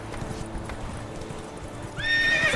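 Geralt's horse Roach in The Witcher 3, rapid galloping hoofbeats close and steady, then a loud neigh near the end.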